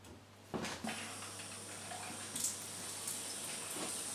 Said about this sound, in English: I'm now going to turn the water back on and just check for any leaks before we fully assemble the tap.